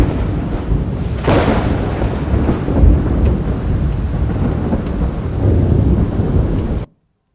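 A thunderstorm with heavy rain over Ahmedabad: dense, steady downpour hiss with a sharp nearby thunder crack early on and rolling rumbles beneath, loud throughout before cutting off abruptly.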